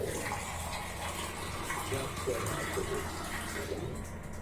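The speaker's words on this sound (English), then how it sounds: "after that I will put some water inside the pan" Water poured into a cooking pan at home for boiling pasta, a steady close splashing wash running for several seconds over low background hum.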